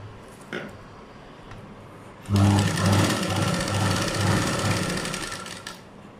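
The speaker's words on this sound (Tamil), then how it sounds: "வச்சு இப்போ ஷோல்டர்லேருந்து தைச்சிட்டு வரணும்" Electric sewing machine stitching a blouse piece from the shoulder, running in a steady loud whir with rapid needle clatter for about four seconds after a quiet start.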